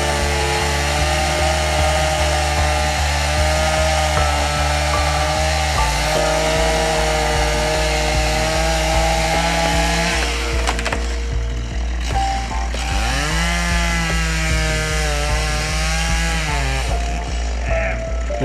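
A chainsaw cutting wood on a Tasmanian track, heard as a loud, sustained engine whine that shifts in pitch as the cut bogs and revs, with no pauses.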